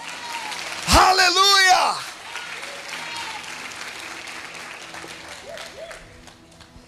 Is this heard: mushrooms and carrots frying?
no